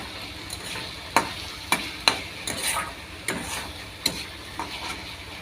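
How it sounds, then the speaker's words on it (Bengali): Spice paste is sautéed in oil in a pan for an egg recipe, cooking until the oil separates: a soft continuous sizzle with sharp, irregular spatula scrapes and knocks close by, no talking. "দেখো এর থেকে তেল ছাড়া শুরু করে দিয়েছে ভালো করে কষিয়ে"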